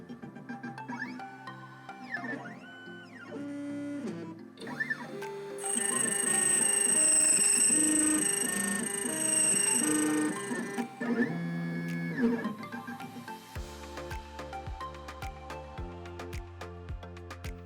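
A key duplicating machine cuts a brass key copy, whirring and buzzing steadily with shifting mechanical tones, then settling into a rhythmic, regular pulsing toward the end, close by with no voices.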